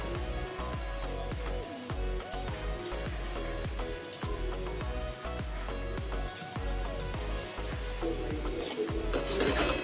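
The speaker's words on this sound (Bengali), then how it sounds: "গ্যাস কমিয়ে দিয়ে একদম কম আছে অল্প অল্প করে ভাজতে হবে, যাতে চিকেনটা সেদ্ধ হয় ভালোভাবে।" Gondhoraj chicken pakora frying in oil over low gas, with a steady crackling sizzle and intermittent stirring clatters close by and no talking.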